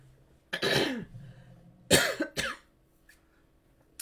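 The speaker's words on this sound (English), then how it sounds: "As you can tell, I'm not quite over my cough yet" A person recovering from a lingering cough coughs one long time, then two quick coughs follow close together, near and fairly loud in a quiet room, with no speech.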